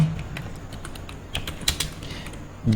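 Text is typed on a computer keyboard: a run of quick, light key taps with a few louder clicks, close and fairly faint, with no talking.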